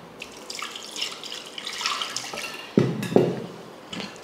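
Water pours and splashes into a vessel as lentils are rinsed in a kitchen, with intermittent trickling, sloshing and a couple of louder splashes near the end, close and fairly quiet.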